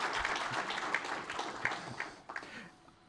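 Audience applause at a game-development conference session, moderate and fairly distant, with scattered claps fading out over a few seconds.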